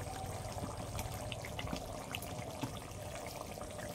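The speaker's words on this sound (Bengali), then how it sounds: "এবারে আমি দিয়ে দিচ্ছি একটু কাঁচা তেল এর উপর থেকে।" A thin stream of raw oil trickles over a simmering curry of live koi fish cooked with green coconut and slit green chillies, a soft, steady, faint liquid pour.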